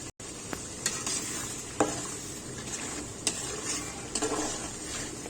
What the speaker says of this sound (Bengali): টমেটো দিয়ে ভালো করে নেড়ে দিলাম।